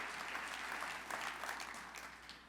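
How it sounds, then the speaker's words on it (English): An audience applauds in a church-style gathering, steady clapping from many hands that swells and slightly fades over a couple of seconds, with no speech over it. "if we're going to applaud the Lord, let's applaud the Lord"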